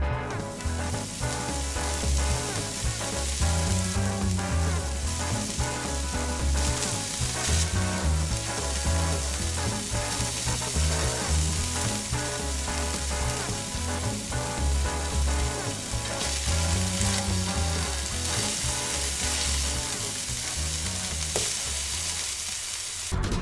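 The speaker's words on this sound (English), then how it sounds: "We're just going to let them grill real slow until they're finished up." Smoked ribs cook slowly on a Brinkmann grill, giving off a steady, dense sizzle and crackle that runs unbroken from start to finish at moderate loudness, with no voices.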